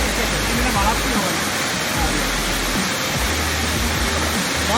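Ketawala Ella waterfall in Matara, Sri Lanka, roars in a steady, loud broadband rush of falling water that continues unbroken throughout, with low rumbling beneath it.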